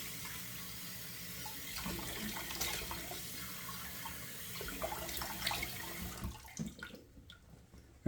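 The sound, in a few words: running tap water splashed on the face before shaving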